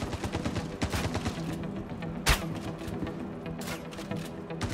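Gunfire in the video game Star Citizen during a firefight in a security bunker: dense, continuous bursts of shots with one louder blast in the middle, loud and close throughout.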